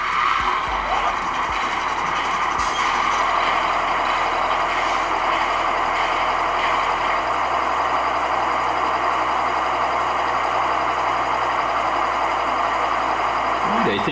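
Three diesel locomotives of a local switcher starting up and settling into a low, steady idle, engine tones shifting in stages as each unit comes up, with continuous loud rumble and a voice talking over it.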